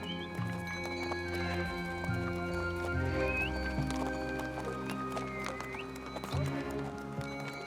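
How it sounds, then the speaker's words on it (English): Caravan horses walk a rough, steep mountain path, their hooves clip-clopping steadily and close by, with jangling tack and occasional snorts throughout. "It's very difficult for the horses to walk here."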